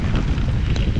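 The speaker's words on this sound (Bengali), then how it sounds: "পুরা বৃষ্টি এখন দেখেন।" Heavy rain pours down on a river during a boat trip, a dense roaring wash with buffeting wind on the microphone, loud and close for one short burst.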